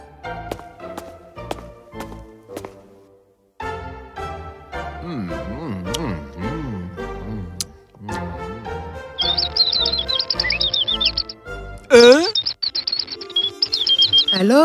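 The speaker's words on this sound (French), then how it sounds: "Quel oiseau ennuyeux et bruyant!" Cartoonish bird chirps in a storybook animation sound as repeated bright tweets and warbling calls over tinkling music, growing busier and more insistent toward the end.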